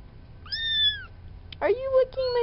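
Two close farm kitten meows: a thin, high-pitched one, then a longer, lower, wavering mew, over a faint room hum.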